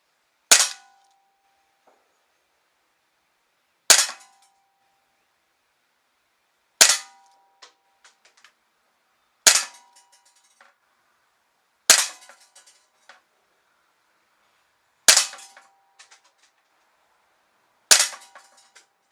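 Umarex Walther CP99 Compact Recon BB pistol fired seven times, each a sharp, loud snap with a quick metallic ring, spaced about three seconds apart with quiet between shots.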